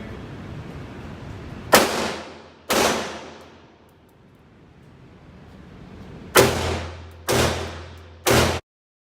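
Five sharp, loud blank-firing pistol shots ring out, two spaced apart and then three in quick succession, each followed by a short echoing decay, with no talking.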